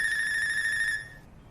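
A mobile phone rings in a dubbed Salman Khan Hindi action film, a single sustained electronic tone held for about a second before cutting off, clear and close with no talking.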